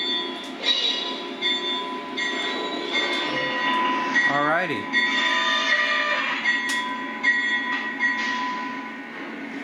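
A diesel NS SD38 locomotive rumbles steadily, shunting freight cars with a brief rising squeal of wheels partway through, while someone speaks briefly nearby.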